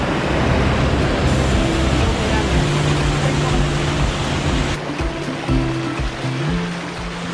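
Rushing brown water at Inudey Falls in the Philippines during the start of rainy season, a loud, unbroken roar of falling and churning water close by, with a low hum running through it.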